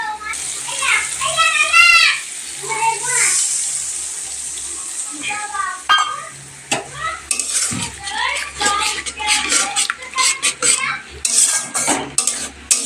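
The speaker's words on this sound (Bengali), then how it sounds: "চলো এবার নারকলের দুধটা দিয়ে দিই" Coconut milk poured into a cooking masala and stirred in a pot, with spoon clinks and scraping against the metal, liquid sloshing, and children and adults talking throughout.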